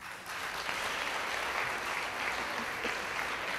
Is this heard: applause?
yes